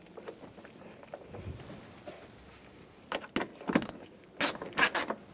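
Screw being driven and snugged into the antenna base of a 2007-2013 Chevrolet Silverado, heard as a close series of quick ratcheting clicks that grows louder toward the end.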